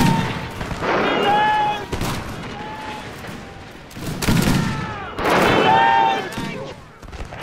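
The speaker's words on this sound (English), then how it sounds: "The Highlanders are opening fire." Highlander troops fire ragged rifle volleys in a battle video game set in the Mahdist Rebellion at Gaza. Bursts of crackling gunfire come in waves over a busy, loud battlefield din.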